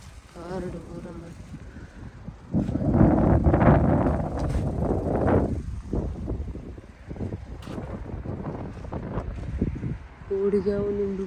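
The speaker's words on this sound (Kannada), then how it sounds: "ಟೆಂಟ್ ಪೂರ ರಾದು ಹೋತು ಎಂಚಿನ ಗಾಳಿ" Strong wind buffets a campsite in Musandam, Oman, gusting in loud rough bursts against the microphone, with people talking in the gaps.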